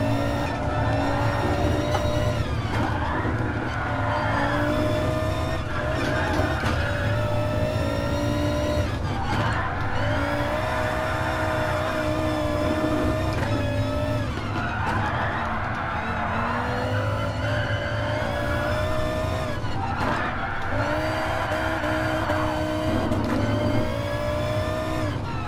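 An Audi rally car in the GT Sport racing game drives hard, its engine revving and shifting in repeated rising sweeps while tires squeal and skid, loud and continuous for the whole stretch with no talk.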